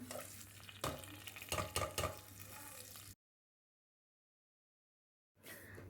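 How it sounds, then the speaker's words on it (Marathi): Spices dry-roasting together in a pan, with close scraping and stirring clatter over a soft sizzle, then a sudden gap of silence before the sound returns briefly. "हे सगळे मसाले भाजून घ्यायचे एकत्र आणि नंतर ना त्याची पेस्ट करून घेणार आहे"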